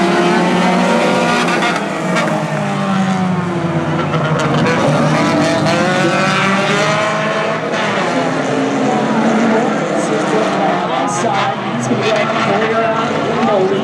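Hornet class race cars lap a short track in an eight-lap feature, engines roaring continuously and loudly with shifting pitch as cars pass, while an announcer talks over the racing.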